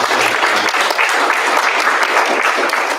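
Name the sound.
applause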